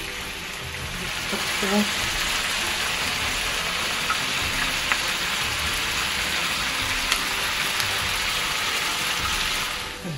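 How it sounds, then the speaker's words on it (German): Onions and beef rolls for rouladen sear in a hot pan, giving a steady, close sizzle and crackle throughout with a few faint clinks. Someone speaks briefly over it. "als nächstes kommen die Zwiebeln dabei. Den auch mit anschmorken."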